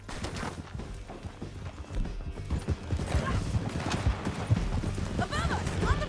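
Rapid, rhythmic hoofbeats of galloping horses in Red Dead Redemption 2, loud and close, with game music and voices mixed in.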